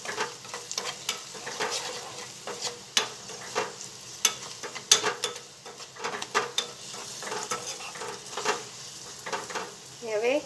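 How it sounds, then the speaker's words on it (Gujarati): Spice masala with amchur powder and sugar sautéing in a pan for chilies, heard as close, uneven stirring scrapes and clicks over a soft sizzle, with sharp knocks of the utensil against the pan. "હવે 2 મિનિટ મસાલાને થોડો સાંતળી લઈશું।"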